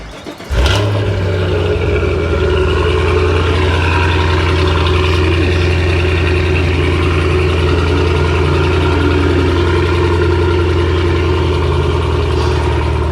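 A stock-exhaust 2023 Cadillac CT5-V Blackwing fires up with a sharp crank and a loud bark, then settles into a deep, steady, rumbling idle that carries on close and loud for over twelve seconds with no talking.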